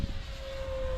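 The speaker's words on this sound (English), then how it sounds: "The FLIGHTLINE Spitfire 1600 mil." A FlightLine Spitfire 1600mm RC model warbird flying low down the runway on its maiden flight, giving a steady, moderately loud motor drone with one sustained tone through the whole second.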